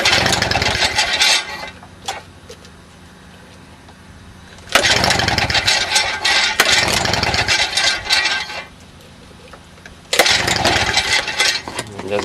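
A Victa Power Torque lawn mower engine is being started; it makes three loud, close bursts of rough engine noise, with quieter gaps between the attempts.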